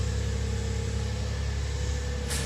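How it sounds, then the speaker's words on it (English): A 1999 Suzuki Jimny engine idles steadily, a low continuous hum with an even mechanical drone, close and unchanging, no voices. "Just show you the engine of it running right now."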